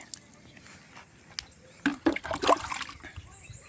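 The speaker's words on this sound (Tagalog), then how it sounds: "dahan-dahan lang tayo sa pagdilig para hindi bumaba yung tubig sa ibaba." Plants being watered slowly by hand: quiet at first, then a short cluster of gentle splashes and trickles as water pours onto soil and leaves, fading out again.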